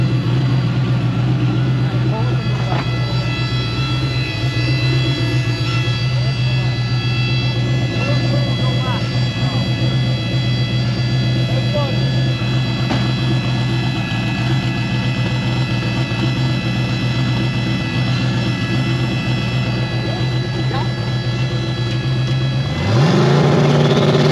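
A car engine drones loudly and steadily through a long stretch, with a dense rumbling hum and a sharp surge near the end as it passes close by, and a voice talks faintly underneath.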